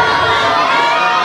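A crowd at a Mojiganga festival event in Tepalcingo cheers and applauds in a dense, loud, continuous wash of clapping and shouting voices.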